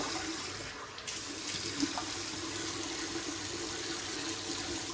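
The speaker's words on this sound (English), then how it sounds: "Let's wet the face and we'll get to lathering up." Tap water pouring steadily into a sink as a face is wetted before shaving, a constant close hiss of running water with one faint knock partway through.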